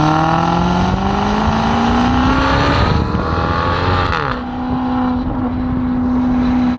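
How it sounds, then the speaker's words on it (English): A Maserati GranTurismo V8 engine revs hard, its pitch climbing through gear changes with a deep, rasping exhaust note that briefly drops and then surges again. "It just sounds so dramatic because of that engine and because of the exhaust."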